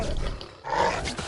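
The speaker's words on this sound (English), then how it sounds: "Wolf." A wild wolf in Assassin's Creed III lets out a short, loud snarling roar up close, rising again after a brief dip, with no voices over it.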